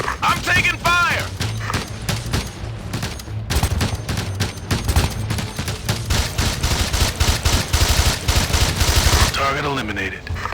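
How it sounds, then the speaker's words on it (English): Rapid gunfire fills a Ghost Recon video game firefight, dense bursts of loud shots and machine-gun fire running almost continuously, with voices speaking over the start and end. "Target spotted. I'm taking fire!"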